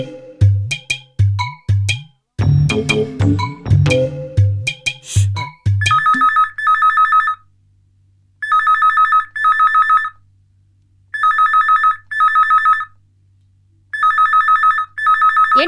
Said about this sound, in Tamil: ஏண்டி போன் அடிக்குதே